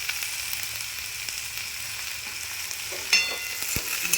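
Greens fry in a pan with salt and turmeric, giving a steady close sizzle and hiss throughout. A short clink of a utensil breaks in near the end.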